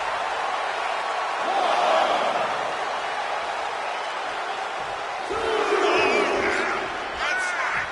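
A crowd roars and cheers in the Bleach Rebirth of Souls video game, a steady wash of noise that swells twice, with a commentator's voice over it.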